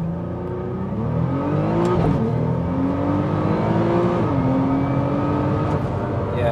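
A 2014 Nissan GT-R launching hard with traction control off, its engine note rising steeply through the revs with quick gear changes, loud and close inside the car.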